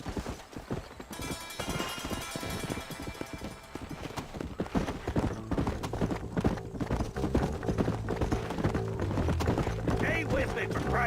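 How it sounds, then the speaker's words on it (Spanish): Horse hooves clip-clop at a gallop in the video game Red Dead Redemption, a rapid rhythmic pounding beneath music and game voices that speak over it throughout. "Vale, ahí está nuestro caballo."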